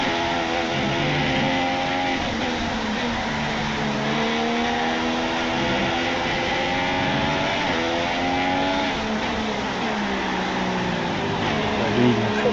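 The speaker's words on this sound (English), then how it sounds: "We'll jump the Mercedes. Should, however, jump the Ferrari of Vettel" Formula 1 cars from the 2016 United States race in a racing video game roar continuously at high revs, with several engines layered and rising and falling together, loud and steady throughout, with no talk in this stretch.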